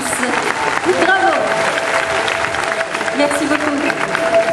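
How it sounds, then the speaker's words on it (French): An audience at a dolphin show at Parc Astérix near Paris applauds loudly and steadily, a broad crowd clap with voices and a faint tonal sound from the venue mixed in. "Nous pouvons applaudir bien fort nos deux moussaillons pour leur participation amicale et complice"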